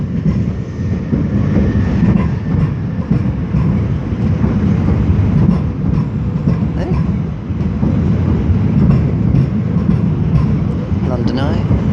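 Class 375 electric train departing London Charing Cross on a service to Ramsgate, with a loud, continuous rumble and rail clatter throughout and voices faintly beneath it.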